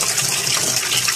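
Water rushes steadily as a siphon pulls it out of a submerged bell once the bell has filled and formed a vacuum, a loud continuous gushing that fills the whole moment with no voices.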